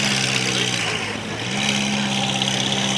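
Turbocharged Ferrari F8 at a cars-and-coffee meet, a close, loud engine drone that dips briefly then rises back into a steady, strained rev, with faint crowd noise behind.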